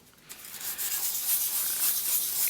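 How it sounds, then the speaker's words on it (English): Light hand sanding of a repaired chipped countertop edge with 220 grit sandpaper, a soft steady rubbing hiss that starts after a brief pause and continues evenly at close range. "you want to lightly sand to help flatten out any overfilled material"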